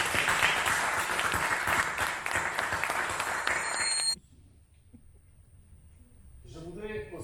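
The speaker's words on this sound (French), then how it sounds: "je vous propose de les applaudir" Applause for municipal staff at a council inauguration meeting in a hall: dense, loud clapping from a crowd for about four seconds, then cutting off abruptly into near silence before faint voices and noise return.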